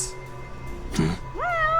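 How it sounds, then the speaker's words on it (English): A cat in a crime-scene investigation video game lets out a single clear, drawn-out meow near the end, preceded by a softer chirpy mew, loud and close with a faint background tone. "That's no pigeon, that's a cat."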